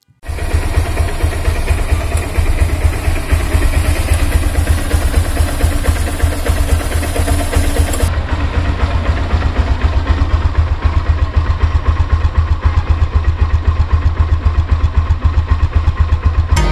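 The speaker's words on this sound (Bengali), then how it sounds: "বাইকের ইঞ্জিন সাউন্ডটা তারা রেকর্ড করবে।" A Honda Hornet motorcycle engine idles steadily up close, a loud continuous low rumble with rapid even firing pulses that carries on alone for the whole stretch.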